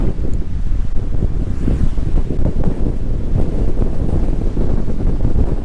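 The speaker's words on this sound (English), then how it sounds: "then it got really windy" A strong wind blows at the beach during parawing practice, roaring loudly and steadily across the microphone with constant low buffeting.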